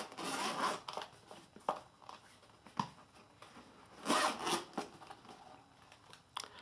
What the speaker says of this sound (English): Let's unzip it.